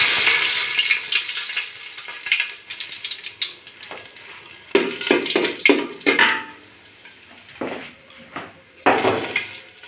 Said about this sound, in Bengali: তারপরে দিয়ে দিচ্ছি তেজপাতা আর শুকনো লঙ্কাটা